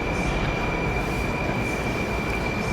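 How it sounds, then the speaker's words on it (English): Loud, steady rumble and rattle of a train car rolling past in a Moscow underground tunnel, a continuous roar with a faint high whine, no talking. "the train car going by in the background was perfect timing"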